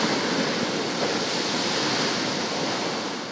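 Furious sea waves pounding the coast at Port-Bouët, a steady loud roar of surf and rushing water with no break, heard alone.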